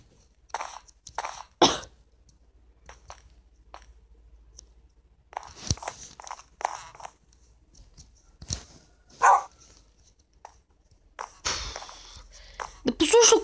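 A dog barks in a series of short, sharp bursts scattered across the stretch, fairly close and loud, with a person talking in between the barks.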